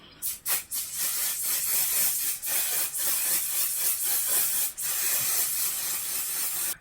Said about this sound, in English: Just going to go in with a little bit of satin spray.